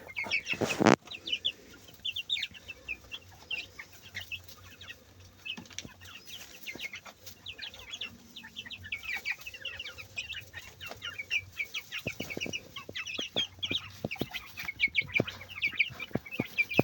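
Hens and young chicks cluck and peep close by in a village yard, with a burst of wing flapping at the start and scattered scratching sounds.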